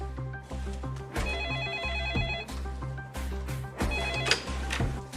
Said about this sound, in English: I received a phone call from one of our lieutenants